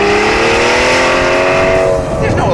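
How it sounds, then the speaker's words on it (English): An Aston Martin V12 Vantage S engine revs hard, a loud, rich, rising wail that holds strong and steady before easing off near the end, with a voice speaking over it. "Hear that engine?"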